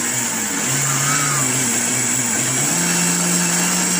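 A blender grinds dried celery into fine powder, a loud, steady motor roar with a gritty churning texture and the pitch stepping upward as the speed is raised.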